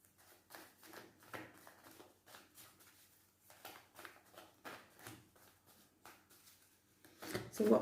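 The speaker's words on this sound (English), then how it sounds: "while I'm shuffling" Tarot cards shuffled by hand, close by, in quick soft riffling bursts with short pauses between them, ending in a louder, denser flurry.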